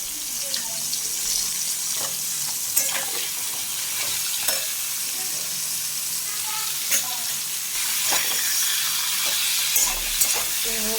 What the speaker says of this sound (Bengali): একটু মাছ ভাজা ভাজা হয়ে এসছে